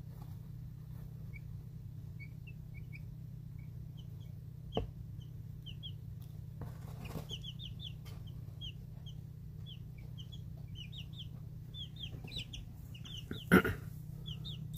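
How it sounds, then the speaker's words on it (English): Small chicks peep in high, thin chirps, scattered at first and then in quick clusters over a steady low hum, with a couple of soft knocks. "Happy little peeps from our little chickens."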